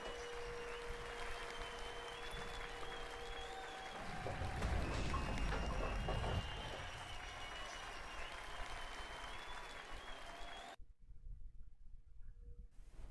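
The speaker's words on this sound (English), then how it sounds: "The crowd just suddenly stops, even though they're applauding." Crowd applause in a PBA Pro Bowling video game swells briefly after a bowling shot, then cuts off abruptly into near silence before faint sound returns.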